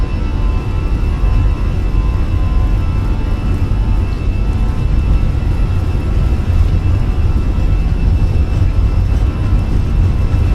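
Fenix A320 airliner engines at takeoff thrust in MSFS 2020 give a loud, steady, broadband roar with a dense low rumble and a faint high whine, unbroken throughout.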